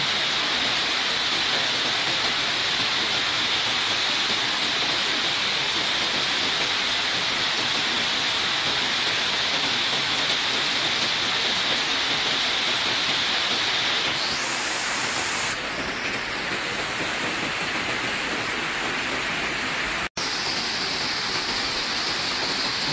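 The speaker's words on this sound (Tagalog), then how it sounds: "Oh, lakas ng ulan." Heavy rain pours down in a dense, continuous roar, loud and unbroken throughout, with one sharp click near the end.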